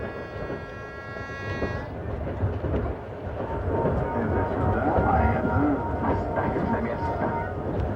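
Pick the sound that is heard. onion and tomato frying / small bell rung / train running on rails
train running on rails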